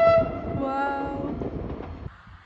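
A train passes close by with a steady rumble and a sustained horn-like tone at the start, fading after about two seconds.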